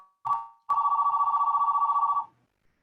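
An electronic phone ringer sounds during an online meeting, a short chirp followed by one long trilling ring burst, clear and close with no speech over it.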